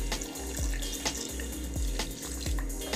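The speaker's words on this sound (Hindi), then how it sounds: "अब हम इसमें पानी डालेंगे।" Water pours steadily from a tap or jug into a blender jar for a carrot, beetroot and aloe vera juice, a close continuous splashing stream with low gurgling thuds as the level rises, no voices.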